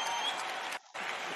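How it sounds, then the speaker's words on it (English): During a WWE Raw broadcast, applause fills the arena for Carter and Elizabeth, a steady roar of many hands that cuts out abruptly for a brief gap before resuming at the same level. "Let's give another round of applause for Carter and Elizabeth."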